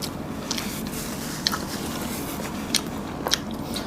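Close, crisp bites and wet chewing of rice and braised pata tim pork during a mukbang, with a few sharp crunchy bites standing out over steady mouth sounds and no talking.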